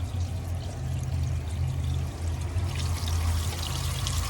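Water gushes steadily out of a heater core hose on a 1999–2006 Chevrolet Silverado being flushed, a continuous pouring rush with a low rumble underneath.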